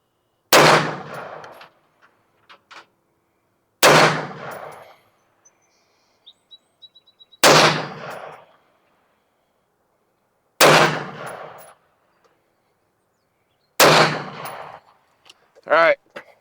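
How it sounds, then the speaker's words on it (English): A rifle topped with a Mostrum Banshee 1-10x24 scope fires a five-shot group at a target, five loud sharp reports spaced about three seconds apart, with faint clicks and a distant bird call between shots. "Let's shoot a 5-shot group at the top left target."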